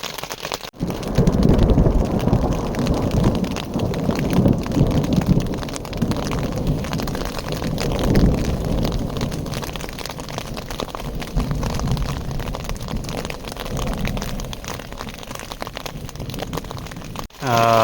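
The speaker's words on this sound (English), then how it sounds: "It is now pouring down rain." Heavy rain pours down steadily on a campsite tarp with rumbling thunder and gusts buffeting the microphone, a dense continuous roar throughout.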